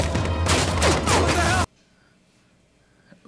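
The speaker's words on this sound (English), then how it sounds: "Who is shooting at you?" Gunfire in an action scene from The Boys, a loud dense burst of rapid shots lasting under two seconds that cuts off abruptly into near silence.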